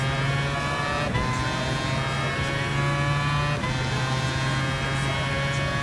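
Race cars in Gran Turismo Sport, a Mazda 787B passing an Audi GT, give a continuous loud engine drone with steady harmonic whine and slight pitch shifts, no talk over it.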